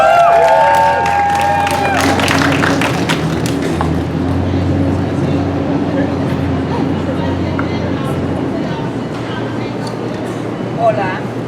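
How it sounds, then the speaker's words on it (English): Rally crowd for an Illinois domestic workers' rights bill breaking into cheers and applause, a continuous broad wash of clapping and shouts over a low hum, with a voice briefly at the start. "Everybody give her a round of applause."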